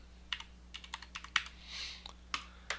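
A value being keyed into a computer keyboard in highway design software: a handful of light, close key clicks in an uneven rhythm, quiet over a low steady hum.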